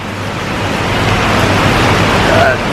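Heavy tropical rain pours down in Pattaya, Thailand as a dense, loud, steady hiss that builds slightly and cuts off near the end.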